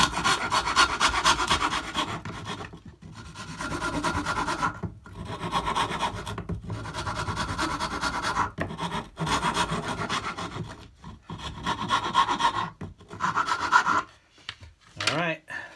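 A Shinto rasp files the wood of a cigar box guitar, producing loud, close, coarse rasping strokes in steady back-and-forth bursts separated by short pauses.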